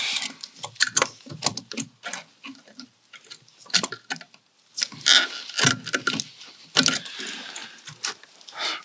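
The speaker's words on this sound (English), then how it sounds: "now I will get the hose clamp off" Metal clicks and scraping as a hose clamp is worked off a Land Rover power steering hose, irregular taps and rattles close by with light handling noise and no talk.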